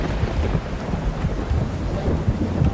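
Dramatic thunder rolls as a sound effect over heavy rain, a continuous low rumble with swelling pulses and a dense rain hiss throughout.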